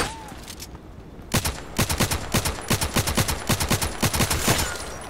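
Long-range rifle fire in the shooter game Contract Wars: after a quiet start, sharp shots crack out in a rapid, fairly regular series, loud and close, continuing to the end.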